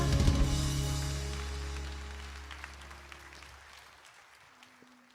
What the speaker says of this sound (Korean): 주님 감사와 영광의 박수 드리겠습니다.